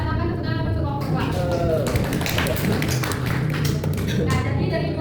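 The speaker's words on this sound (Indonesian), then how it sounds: "Silakan tepuk tangan untuk kelompok 2." A class of students applauds a student group, with dense, continuous hand clapping from a room full of people, loud and steady throughout, with some voices mixed in.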